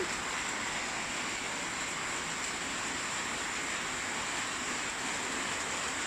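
Heavy rain pours during a Songkran festival, a constant broadband wash with no breaks, fairly faint and even from start to end.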